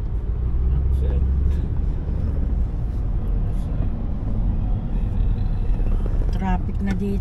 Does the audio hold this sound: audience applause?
no